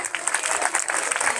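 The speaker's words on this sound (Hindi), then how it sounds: "तो तालियां बजाओ आप लोग" Audience clapping at a school event in a college auditorium, a brisk burst of many hands applauding together, close and lively.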